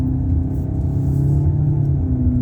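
A 2020 Mitsubishi Eclipse Cross turbo engine drones loudly and steadily from inside the cabin, a deep continuous rumble with rising tonal whine as it accelerates.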